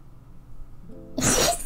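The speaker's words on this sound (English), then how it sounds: "He's sneezing right now." A sneeze bursts out once near the end, sudden and loud with a sharp broadband hiss after a quiet, low-level stretch.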